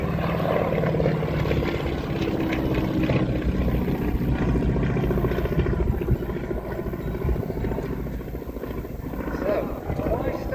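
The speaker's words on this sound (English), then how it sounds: "he's displaying for you the lovely yellow Staggerwing" Yellow Beechcraft 17 Staggerwing biplane flying a display at an airshow at Old Buckenham airfield, a steady propeller-engine drone that holds for the whole stretch, with a commentator talking over it throughout.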